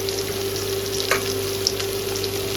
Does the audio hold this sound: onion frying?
yes